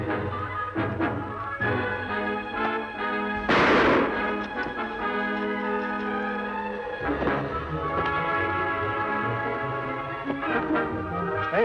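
A single loud gunshot booms out during a western drama shootout, under a swelling orchestral score with faint scattered pops and thuds around it.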